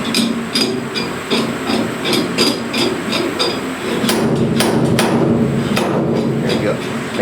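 A vintage 40-year-old slide hammer pulls dents from metal with repeated sharp metallic clanks, about a dozen hits, some quick pairs, close and loud over a low background noise.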